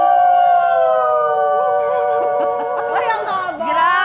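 A group of people imitates a long dog howl, a drawn-out, wavering, slowly falling vocal wail held for several seconds, loud and close, with laughter and chatter starting to break in toward the end.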